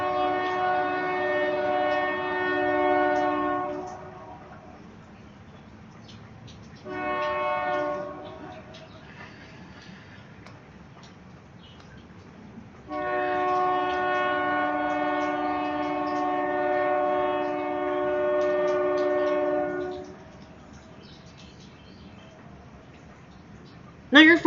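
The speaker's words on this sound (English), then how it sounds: "There's always a train when I come outside to stream." A train horn blares in long sustained blasts, two long ones and a short one, then a longer blast, over a low steady rumble of passing railcars.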